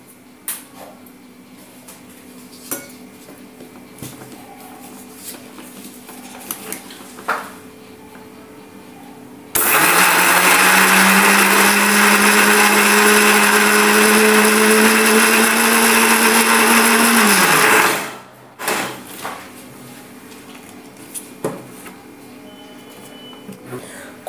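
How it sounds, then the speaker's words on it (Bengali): A kitchen blender whirs loudly through banana and sugar, starting abruptly and running in one steady high-pitched roar for about eight seconds before winding down, with quiet kitchen handling sounds before and after. "এবার কলার চিনিটাকে আমি ব্লেন্ডারে ব্লেন্ড করে নেব।"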